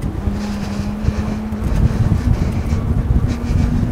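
An ENGWE Engine Pro fat-tire folding e-bike ridden on throttle only, its steady motor whine running beneath loud wind rush and rumbling tire noise throughout.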